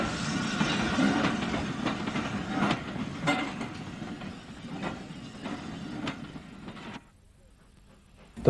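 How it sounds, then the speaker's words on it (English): A tank engine hauls a push-pull train up a steep branch line. The engine chuffs hard under rolling wheel clatter and rail noise, then the sound cuts abruptly near the end. "the tank engine had to work hard on their push-pull trains"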